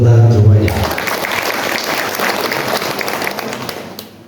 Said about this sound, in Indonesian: Berikan tepuk tangan semuanya.